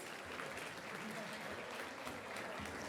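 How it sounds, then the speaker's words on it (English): Applause breaks out at a swim club banquet, an even patter of many hands clapping in a room, fairly faint and steady throughout. "Please give him a round of applause."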